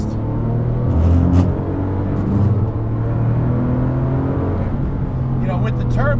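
A Porsche 997 GT2 RS, turbocharged with a manual gearbox, pulls hard at full throttle in second gear, its steady loud engine roar continuous under someone talking throughout.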